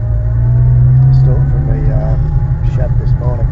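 A 1963 Rover P4 110 with its straight-six engine runs steadily while driving, a loud continuous low drone throughout with people talking over it.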